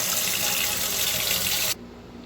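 Water pours and splashes steadily through the thermostat housing of a 2008 Audi TT, a loud continuous rush that cuts off abruptly near the end, leaving a quieter trickle.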